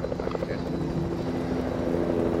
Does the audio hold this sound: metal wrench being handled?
no